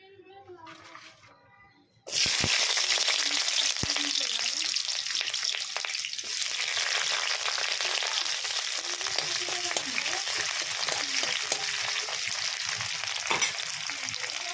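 Onions drop into hot oil and burst into a loud, steady frying sizzle that holds close and continuous to the end, with a brief voice at the start before they go in.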